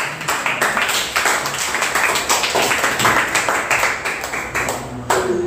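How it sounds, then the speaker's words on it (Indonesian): An audience in a classroom claps steadily for a student group called up to present, a dense run of many hands going throughout, with a brief lull near the end. "Kita beri aplaus untuk kelompok 2"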